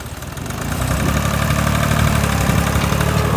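A tractor engine pulls a loaded cart of fodder sugar beets of about one and a half tonnes, droning loud and steady as the effort builds and holds under strain, with no talk.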